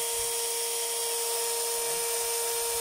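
An electric motor armature spins with sparking carbon brushes, giving a steady high-pitched whine with sharp tonal hum layered over a constant hiss, loud and unbroken throughout.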